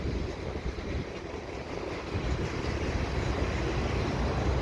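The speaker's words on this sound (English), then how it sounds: "And that's the last train car right there." A CN freight train hauled by CSX locomotives rolls past on a windy day in Montreal, a steady broad rumble with heavy wind buffeting the microphone, no voices.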